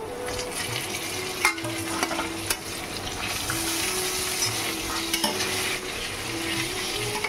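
Capsicum sautéing in a pan with a steady, close sizzle, broken by a few sharp stirring clanks and scrapes of a utensil against the metal.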